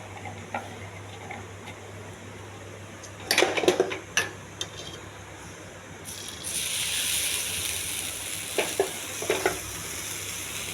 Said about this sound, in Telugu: ఉల్లిపాయ ముక్కలు, అల్లం అండి, కొంచెం జీలకర్ర, ఇవన్నీ బాగా మిక్స్ చేసుకోవాలి.